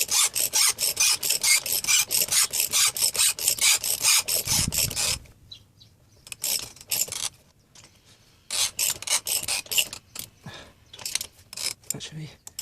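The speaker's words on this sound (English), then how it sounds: "you'll hear it do a little crack noise as it pops through, and then the pin will push out the other side" Chain breaker tool being cranked to push a pin out of a motorcycle chain, giving rhythmic rasping, ratcheting strokes that are loud at first, pause, then resume in irregular bursts, close by.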